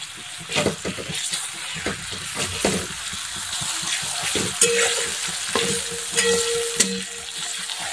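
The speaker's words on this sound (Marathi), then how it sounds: "आता कांदा पण छान भाजून घ्यायचा तेलामध्ये" Long-sliced medium onions fry in oil in a pan, a close continuous sizzle broken by repeated scraping stirs and occasional clinks of a spoon against the metal, with no talk.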